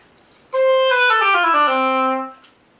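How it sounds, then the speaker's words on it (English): An oboe with its reed fitted plays a short phrase of several connected notes stepping downward, clear and reedy, held steadily for about two seconds before fading out. "But with the oboe, it sounds a little bit better than that."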